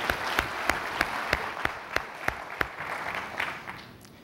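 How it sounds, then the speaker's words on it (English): Convention audience at a Church's company gathering applauds, dense clapping with a few sharp, evenly spaced louder claps standing out near the front, fading slightly toward the end. "I'd like to give a round of applause to Zach Coleus and his team"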